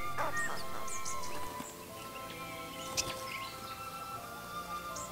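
Australian Rufous Whistler singing at a drinking pond in New South Wales, with bright whistled phrases and chirps at moderate distance over a steady background hum, plus scattered other bird calls.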